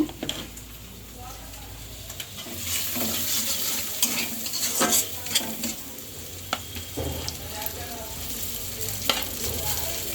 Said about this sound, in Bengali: পেঁয়াজ আর ডিমটা ভেজে নিচ্ছে